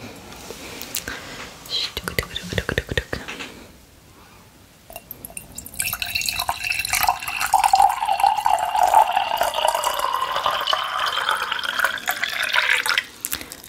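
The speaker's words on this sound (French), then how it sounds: "Je vais me servir avant un petit peu d'eau pour pouvoir du coup être au top." Water poured from a bottle into a glass, a rising, steady gurgling stream lasting several seconds in a quiet room, preceded by soft handling noises and quiet speech.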